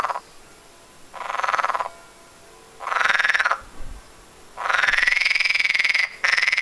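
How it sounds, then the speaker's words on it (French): A frog croaks in several long, loud, buzzing bursts with short silent gaps between them, close by and alone. "Chant de grenouille, voilà."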